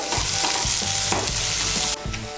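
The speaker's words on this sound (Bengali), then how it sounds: "মিশিয়ে নিয়ে পেঁয়াজ কুচিটাকে লাল করে ভেজে নেব।" Chopped onions fry in oil for a potato curry, a loud, steady sizzle with stirring strokes scraping through it and a brief quieter moment near the end.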